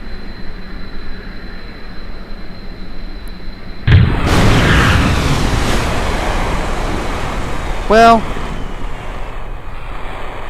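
A plane crash-landing in water in Kerbal Space Program, a sudden loud whoosh and roaring splash that sustains for several seconds, with a brief burst of a tonal chime near the end and a voice speaking briefly.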